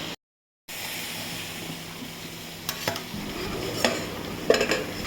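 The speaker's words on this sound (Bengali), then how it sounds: "মশলাটাকে কষিয়ে ম্যারিনেট মাটনটাকে দিয়ে ভালো করে ফ্রাই করে নিতে হবে" Marinated mutton fries in a pan with ground masala, giving a steady close sizzle with a few louder bursts of stirring and scraping toward the end, no voices.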